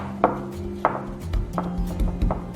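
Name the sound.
mashing salted egg yolks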